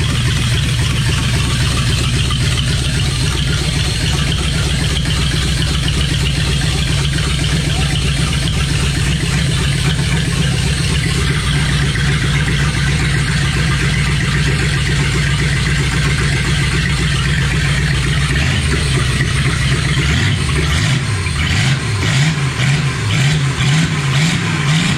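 A Pontiac Firebird with single-point injection idles steadily and loudly up close, its rough, uneven engine note continuing throughout before it revs a few times near the end.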